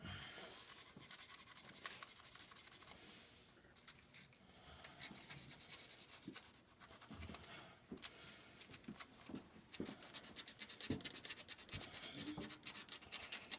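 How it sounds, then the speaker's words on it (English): Sand cloth rubs back and forth to clean a part, a faint, close scratchy scrubbing in irregular strokes with occasional small clinks and light handling noises. "now I'm coming down here, and I'm using my sandpaper, sand cloth"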